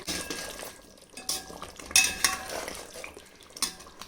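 Metal utensils scrape and clink against a pot as thick aloo gosht curry is stirred, with a few louder knocks in between; no talking.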